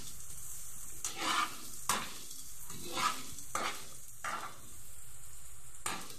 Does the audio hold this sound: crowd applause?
no